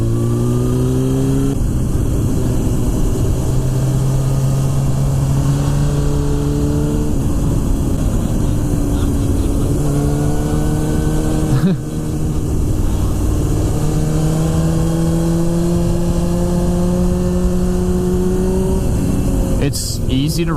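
A Honda Fireblade sport motorcycle, a cheap project bike, ridden on the road: a loud, continuous close engine drone that rises and falls through gear changes across the whole stretch, with wind noise over it.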